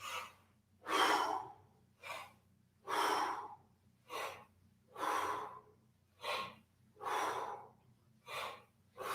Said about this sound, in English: Exhale it out.